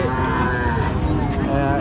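A cow moos in a long, loud, close low call that stretches across the whole moment, at a cattle market.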